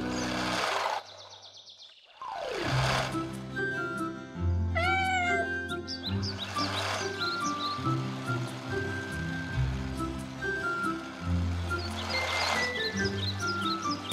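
A cartoon kitten meows several times in high, wavering cries over a bright animated music score, close and clear, in a children's cartoon about rescue vehicles.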